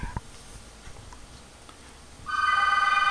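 A telephone starts ringing partway through, a steady, loud, trilling electronic ring that follows a quiet stretch with faint shop noise.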